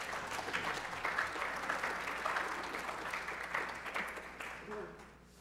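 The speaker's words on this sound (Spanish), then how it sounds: "la palabra al doctor Rubén Guevara Bringas, a quien recibimos con un fuerte aplauso" An audience at a talk on real estate registry law applauds a doctor invited to speak, sustained dense clapping from a medium-sized crowd that gradually fades out toward the end.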